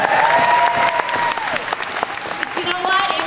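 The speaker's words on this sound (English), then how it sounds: "Give Riley a big round of applause." Convention audience applauds loudly and steadily for about three seconds, a dense wash of many hands clapping with no pause.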